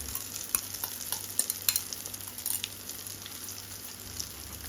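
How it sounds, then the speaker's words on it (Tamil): Beaten eggs fry in hot oil in a pan for chicken fried rice, a soft close sizzle with crackling pops and stirring scrapes, fairly quiet and without talk. "இதில் எண்ணெய் சூடானதும் நம்ம பீட் பண்ணி வச்சுருக்க முட்டையை இதில் சேர்த்துடலாம்."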